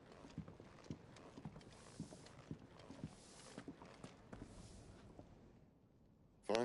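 Horse hooves clip-clop at a steady walking pace in Final Fantasy XVI, a soft rhythmic patter of hoofbeats over a low ambient bed, fading out near the end before a sudden louder burst.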